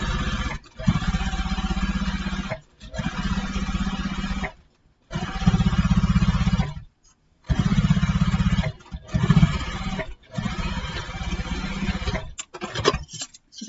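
A sewing machine runs in several long bursts of steady, buzzing stitching along a backpack's side seam, with short pauses between runs, close and loud.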